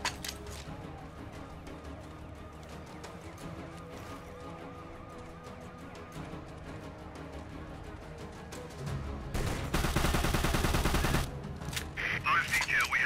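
Gunfire in the video game Secret Service: dense, rattling bursts of automatic fire crackle under shouting voices, building to a loud, sustained volley near the end.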